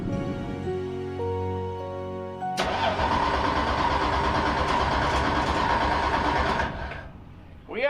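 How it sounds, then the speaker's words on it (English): A race car engine in the Bahamas fires up abruptly after a tonal lead-in, then roars loudly and steadily up close for several seconds before dropping away. "trying to get it fired up for Santa's Wonderland"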